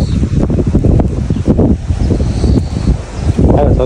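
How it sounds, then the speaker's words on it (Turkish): Strong wind buffets the microphone outdoors, a loud continuous rumbling roar with gusty swells throughout. "şu an hava çok rüzgarlı"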